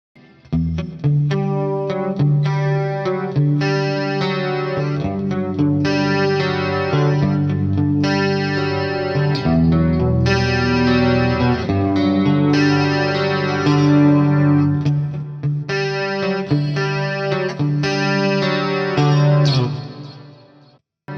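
Electric guitar through a ToneX pedal on a preset, ringing chords and melodic lines with chorus, distortion and echo, loud and continuous for about twenty seconds before cutting off.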